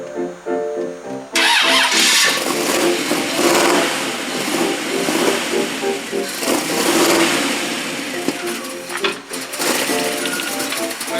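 A vehicle engine cranks and catches after a quiet moment, then runs loudly with a rough, slightly uneven clatter as the vehicle is driven in, the running noise staying strong to the end.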